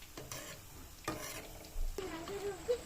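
Sago punugulu, small balls of sago batter, frying in hot oil while being stirred and turned until golden brown: a steady soft sizzle runs underneath, with a few brief scraping stir strokes standing out. No one talks.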